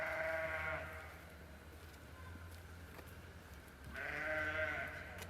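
Sheep bleat in a village, two drawn-out calls separated by a quiet pause, each ringing slightly as it echoes, moderately distant, with soft background ambience and no talking.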